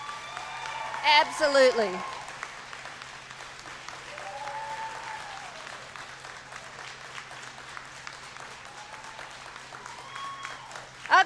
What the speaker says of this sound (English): give an applaud to all of those friends and loved ones who helped you make it to this point